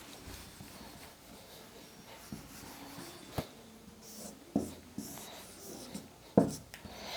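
A marker scratches and taps on a board while a monitor diagram is drawn, leaving soft rubbing strokes and several sharp, distinct knocks scattered over a quiet room.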